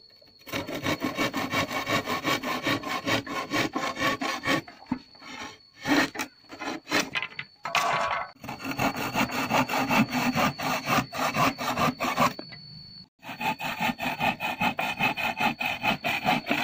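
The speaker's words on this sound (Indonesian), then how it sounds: "Kita gergaji." A hand saw cutting through a wooden speaker box housing a bee colony, with long steady rasping strokes in a continuous rhythm, close and loud, broken by a few short pauses.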